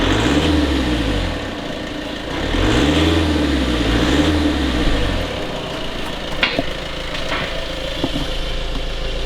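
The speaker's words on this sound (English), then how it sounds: "Give it a rev." A Seat Leon FR engine with an upgraded exhaust revs several times in swelling rising-and-falling sweeps, loud and close, then drops back to a rough idle with a few clicks, no talk.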